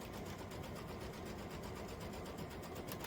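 Sewing machine stitching a quilt block, a steady rapid mechanical whir running continuously at low volume with no voices.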